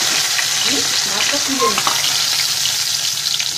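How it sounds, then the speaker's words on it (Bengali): Pieces of boal fish fry in hot oil with a loud, steady sizzle and crackle, while a voice speaks briefly over the constant frying noise. "আমি এপিট ওপিট করে ভেজে নেবো এটাকে"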